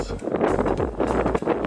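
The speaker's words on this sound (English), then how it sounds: "Sorry for the wind, it's pretty windy." Strong gusts buffet the microphone outdoors at a cricket farm during wild weather, producing a continuous loud rumbling roar with pulsing surges.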